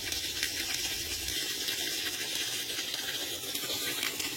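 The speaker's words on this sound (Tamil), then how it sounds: "தண்ணி ஓவர்ஃப்ளோ ஆகி எப்படி வருதுன்னு பாருங்க" Water gushes and splashes steadily as a rooftop storage tank overflows once its pump motor is running, a continuous broadband rush close by with no pauses.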